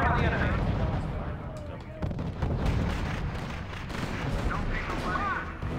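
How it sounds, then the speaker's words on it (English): Units firing in the World War II strategy game R.U.S.E., with booming artillery-like shots and distant gunfire rolling through a battle ambience, alongside voices speaking. "Unit opening fire on the enemy."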